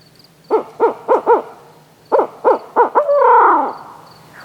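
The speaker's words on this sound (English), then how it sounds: "I hear a couple different birds" Owls hoot in two runs of about four evenly spaced calls each, followed by a longer wavering hoot, fairly close and clear against a quiet background.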